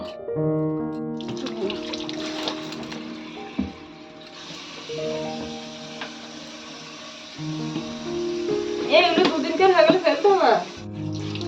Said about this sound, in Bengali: একটু বেগুনগুলো ধুয়ে দাও তো চেপে দাও